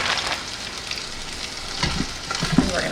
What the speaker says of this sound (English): And we're gonna saute it.